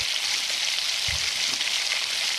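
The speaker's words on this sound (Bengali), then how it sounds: "এভাবে উল্টে উল্টে আমি সবগুলো পিঠা ভেজে নেব।" Taler bora pitha, palm fritters, frying in hot oil over medium heat, giving a steady close bubbling sizzle with a couple of soft knocks from turning the fritters.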